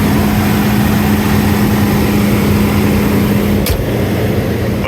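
A 2010 BMW X5 35d E70 diesel engine idles after a cold start, a loud, steady low drone with a constant hum, briefly interrupted by a sharp click near the end.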